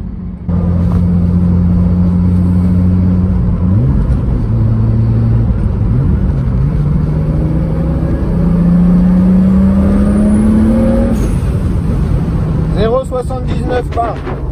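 A tuned, turbocharged BMW engine with a reprogrammed ECU holds a steady, loud, droning idle, its pitch shifting slightly now and then, while someone talks over it close by.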